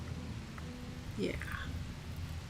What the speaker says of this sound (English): It needs to rain. Come on, there's thunder.